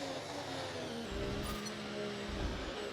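Race car engine in the F1 2025 video game, a steady close drone that rises and shifts pitch through gear changes as the car accelerates, with no one talking.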